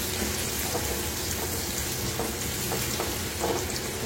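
Sliced onion fries in hot oil for a prawn and drumstick curry gravy, a steady, loud, close sizzle with faint stirring crackles throughout and no talk.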